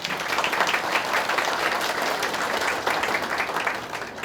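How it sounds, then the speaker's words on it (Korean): Audience applause at a Korean county residents' town meeting in Sani-myeon, Haenam, a steady crowd clapping held at an even loud level throughout. "우리 조합장님에도 큰 박수 한번 부탁드립니다"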